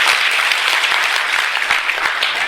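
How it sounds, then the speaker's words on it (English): An audience in a building claps on cue, a dense and loud burst of applause from many hands that runs steadily through the whole clip. "When I put the hand up, you clap."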